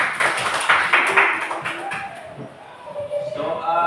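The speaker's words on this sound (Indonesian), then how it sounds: "Oke, bagus. Tepuk tangan." Hands clapping together in an Indonesian school classroom, a burst of quick, fairly loud claps from a group of pupils that fades partway through before scattered claps and voices return.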